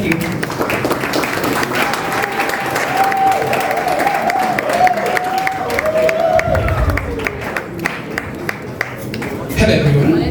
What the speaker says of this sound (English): Please give it a round of applause for him.